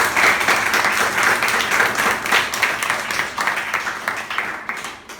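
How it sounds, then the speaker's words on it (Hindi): Schoolchildren at a composite school give their principal and teachers a loud round of clapping that stays dense and steady, then slowly tapers off at the end. "के लिए एक जोरदार ताली बजाओ जरा।"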